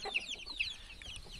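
Wyandotte chickens cluck in a coop, a few quick, bright clucks close by over a quiet background, with short pauses between the calls.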